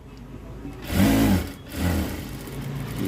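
A sewing machine stitches the lining of a simple blouse in a couple of short motor bursts, the whir rising and falling close by over a steady background hum.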